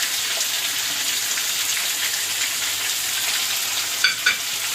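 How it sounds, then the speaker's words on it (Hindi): Chicken frying in a pan with garlic-ginger paste and onion for spicy chicken biryani, a steady close hiss and crackle of oil with a couple of brief stirring clinks near the end, no talk. "3 से 4 मिनट के लिए इसको फ्राई कर देंगे, लहसुन के पेस्ट और प्याज के साथ चिकन को।"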